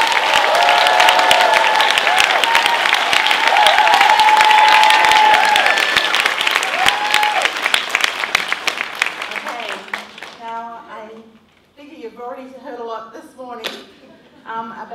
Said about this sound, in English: Let us give our very own Deborah Hewes a hearty round of applause as we welcome her on stage.